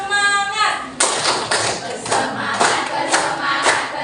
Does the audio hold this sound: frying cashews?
no